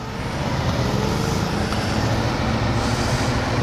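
A large truck passes on a road in Warwickshire, heard from a motorcycle, a loud, steady low rumble of engine and tyre roar mixed with broad traffic and wind noise, constant throughout with no talking.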